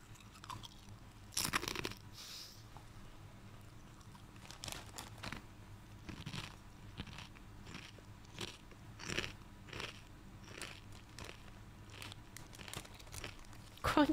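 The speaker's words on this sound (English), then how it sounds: "I'm going to just crunch on some potato chips." Close, crisp crunching and chewing of potato chips, with irregular bites and crinkles over about fourteen seconds, loud bursts amid quieter mouth sounds, no talking.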